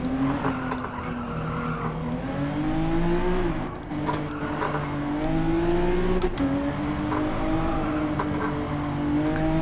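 A Honda NSX-R engine hums and rises in pitch as it is driven in Gran Turismo 7, a steady loud drone with gear-change dips and brief tire noise, with no talking.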